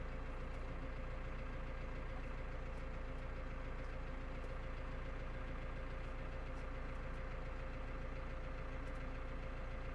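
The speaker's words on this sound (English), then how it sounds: "That's just on tick over." A T5 140 tractor engine idles steadily with a low, continuous chugging rumble, close by and unchanging throughout.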